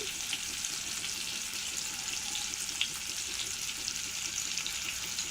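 Chopped onions fry in a pan with a steady, dense sizzle that holds close and even throughout, with faint crackles and no voices over it.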